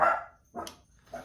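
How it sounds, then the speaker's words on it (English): A few sharp dog barks, spaced apart and somewhat distant, with quiet gaps between them. "sorry for the barking dogs"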